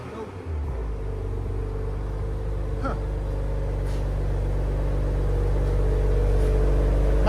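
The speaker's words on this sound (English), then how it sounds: "Nice idle. That's with the valve closed, guys." Toyota Supra GR with a 3.0L inline-six and aftermarket exhaust idling with its valve closed, a low, steady rumble that holds evenly and grows slightly fuller over several seconds.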